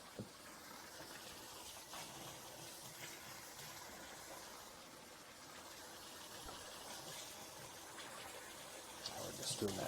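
Running tap water pours and splashes steadily over Berkey water filter parts, silicone and metal pieces, being rinsed at a sink; continuous close gushing with light handling clatter near the end.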